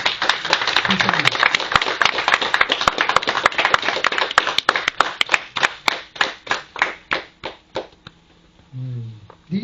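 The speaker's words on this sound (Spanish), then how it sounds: "dale un aplauso fuerte a Jesús esta mañana" Congregation applause during a church service, dense clapping from many hands that gradually thins into fewer, separate claps before fading out, with brief voices at the edges.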